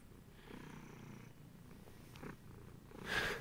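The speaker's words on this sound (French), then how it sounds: "Il ronronne." A small male cat purrs softly and steadily at close range, with a brief louder burst near the end.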